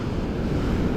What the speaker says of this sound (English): East wind has come up.